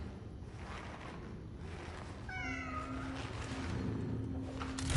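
A cat meows once in a short series of falling, harmonic calls, fairly close, over a steady background hum with a brief sustained tone afterwards.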